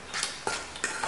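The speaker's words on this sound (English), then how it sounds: "Now I just mix it with a fork" A fork mixing mashed potatoes and egg in a bowl, with three or four quick, soft scraping strokes close up, quiet and rhythmic with no talking.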